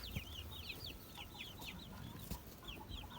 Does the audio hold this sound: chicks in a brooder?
yes